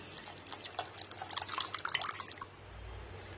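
Tamarind water pours and trickles in a thin, uneven stream for a couple of seconds, with spattering drips, then stops, leaving quiet background hum.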